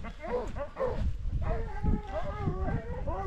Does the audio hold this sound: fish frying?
no